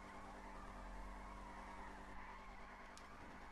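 A car engine revving hard in a PlayStation driving game: a loud, steady, droning roar with a brief tyre skid partway through.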